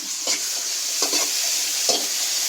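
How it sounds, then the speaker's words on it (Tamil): Onion, garlic and green chillies sautéing in a pan, a steady soft sizzle broken by three quick scraping stirs of a spoon, close and alone without talk. "வெங்காயம் பூண்டு பச்சை மிளகாய் மூணையும் வதக்கிட்டு அடுத்து தக்காளி"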